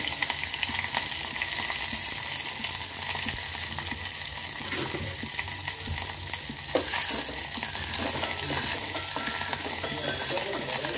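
Green chillies and dried red chillies fry for Andhra pachipulusu, giving a continuous close sizzle with bubbling and occasional stirring scrapes throughout, no voices.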